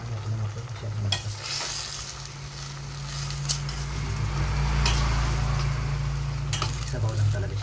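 Sautéed cabbage sizzles steadily in a frying pan while a utensil stirs and scrapes through it in close, repeated strokes, with a voice speaking over the cooking.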